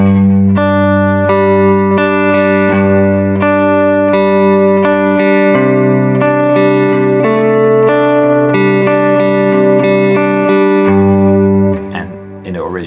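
Guitar playing the verse of a song slowly, a steady strummed chord pattern with clear repeated strokes, up and down, close and loud, with a chord change midway and a brief fade at the end.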